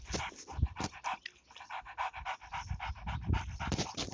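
A dog pants rapidly and close, a steady rhythmic string of quick breathy huffs with occasional soft whimpering tones, alone with no talk.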